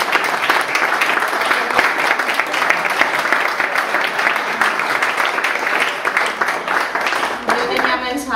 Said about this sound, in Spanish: Bueno, un aplauso, ¿no?